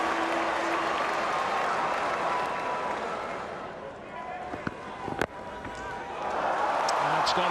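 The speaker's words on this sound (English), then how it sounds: "They're cheering in the stands." Broadband crowd cheering and applause rises from the stands at a one-day international cricket final between West Indies and Australia in Barbados, holding steady, dipping midway, then swelling again with a couple of sharp knocks, under commentary.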